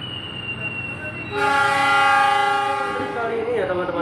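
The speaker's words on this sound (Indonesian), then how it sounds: "Ini persiapan berangkat dari stasiun Wonokromo dan akan berhenti di stasiun selanjutnya, stasiun Surabaya Gubeng" A locomotive-hauled commuter train departing Wonokromo station in Surabaya sounds a loud, sustained horn blast close by, rising over the low rumble of the rail cars.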